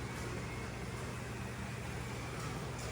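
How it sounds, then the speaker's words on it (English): A slot car runs smoothly on its track, giving a steady, quiet, even whir that holds without change for the whole stretch. "listen to how smooth and quiet it runs."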